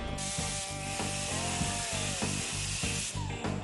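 A power tool cuts the head off a bolt on a 1951 Chevrolet 3100 truck's steering column, a loud, close, whining grind with a rapid, regular pulsing rattle throughout.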